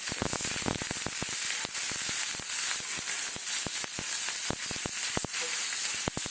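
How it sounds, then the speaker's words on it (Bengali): Onion paste frying in a pan for chicken bharta sizzles steadily and close, punctuated by frequent sharp crackles and pops throughout. "পেঁয়াজ বাটাটা দিয়ে দিলাম"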